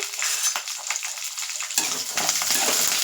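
About 200 grams of garlic frying in oil with curry leaves, giving a loud, dense, continuous close sizzle that swells sharply partway through as the cloves are stirred in.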